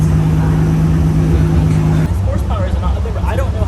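A Z car engine on a dyno on its first run of the season: a loud, steady mechanical roar holds, then drops abruptly to a rougher rumble. The sound fills the clip throughout, with voices over it in the latter half.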